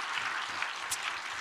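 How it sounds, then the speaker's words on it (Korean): A church congregation claps together, a steady spread-out patter of many hands held at an even level throughout, heard from a distance without speech. "그분들을 위해서 박수 한번 치세요"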